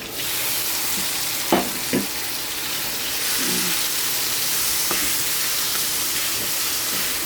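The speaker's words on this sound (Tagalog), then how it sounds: "Lagay na rin po natin yung kamatis." Tomatoes sautéing with garlic and onion in a hot pan for a Filipino vegetable and shrimp dish, a steady loud sizzle with a few clanks from stirring; no talk.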